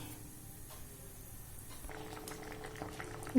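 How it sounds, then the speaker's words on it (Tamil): Soft, continuous bubbling of citron pickle boiling in a pot, faint and steady, with a low background hum. "இப்போ இது நல்லா கொதிக்கட்டுங்க, அப்புறம் இறக்கிடலாம்"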